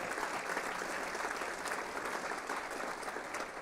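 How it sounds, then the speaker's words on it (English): A large audience at a city's State of the City address applauds steadily throughout, a dense, even wash of clapping with no talk on top. "Please give them a round of applause."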